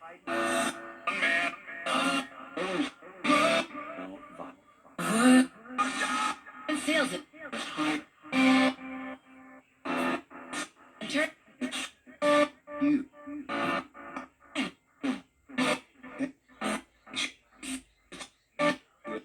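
A hacked Geobox scanning with an adjustable sweep gives off rapid, evenly spaced pulses that speed up and tighten as the sweep is changed, each burst sharp and close, over a quiet background.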